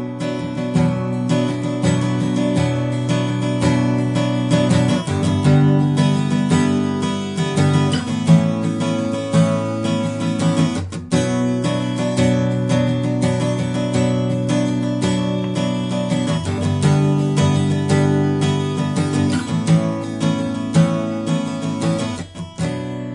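Acoustic guitar picked up by a microphone about one metre back, giving a warm sound; sustained chords and strummed notes ring continuously and loudly with no pauses and no voices.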